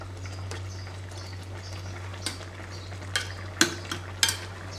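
Onion and cumin frying in a pan at an outdoor picnic cookout, a low steady sizzle under a constant hum, punctuated by several sharp spatula scrapes and clinks toward the end.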